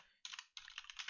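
Rapid clattering keystrokes on a computer keyboard come in two bursts separated by a short pause, close and quiet, with no talking.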